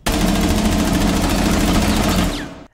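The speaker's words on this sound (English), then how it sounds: "And this is what gunfire sounds like with hi-fi on." Rapid automatic gunfire in a video game played with the hi-fi audio setting, a loud, dense, unbroken burst of shots lasting a couple of seconds before cutting off.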